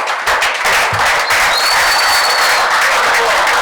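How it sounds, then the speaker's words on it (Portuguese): A crowd claps loudly and continuously, a dense wash of applause throughout. "Uma salva de palmas para vocês."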